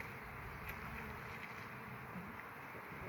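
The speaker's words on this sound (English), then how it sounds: "can you see the bees that have already taken an interest in them?" Honeybees buzz steadily around an open beehive, a close, continuous hum with no pauses or voices.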